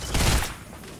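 Video game gunfire aimed at a wall, a dense burst of rapid shots in the first half second that fades into a lingering echo with no talk over it.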